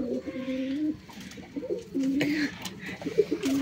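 Pigeons coo at a pigeon farm in Kuakata, several distinct rolling coos close by, repeating in short phrases with faint background noise.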